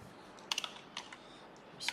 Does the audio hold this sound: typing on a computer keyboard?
yes